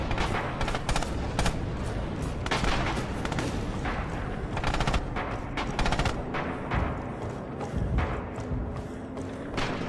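Machine gun fire rattles through a tactical war video game: rapid, repeated bursts of gunfire at a steady moderate level, mixed with scattered heavier thuds and distant booms of battle throughout.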